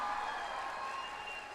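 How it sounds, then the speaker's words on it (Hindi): Crowd applause at the Sparsh Himalaya festival, a faint, steady patter of clapping heard from a distance that slowly tapers off. "तालियां बजाइए जोर से।"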